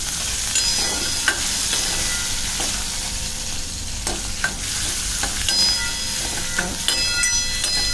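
Garlic fries in oil as a tempering for a Malvani black pea curry, giving a steady close sizzle with frequent stirring scrapes and clinks and no voices.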